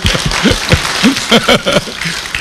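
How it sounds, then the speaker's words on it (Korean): Lecture audience claps in a quick, irregular series of sharp hand strikes, close and loud, with voices and vocal sounds blending between the claps. "박수."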